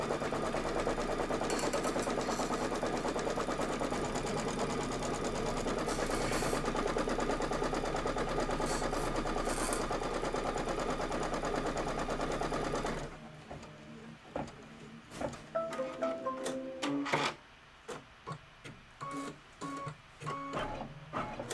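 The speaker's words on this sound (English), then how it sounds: "Go ahead and stitch this out." An embroidery machine runs a placement outline stitch for a Kimberbell Cup of Cheer quilt block, giving a loud, steady, rapid mechanical whir for about thirteen seconds, then falling away to a few softer clicks and taps near the end.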